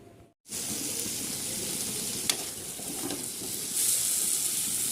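Meat sizzles as it is fried and stirred in a wok in a home kitchen, giving a steady close hiss with a brief scrape partway through and a brighter burst of sizzling near the end.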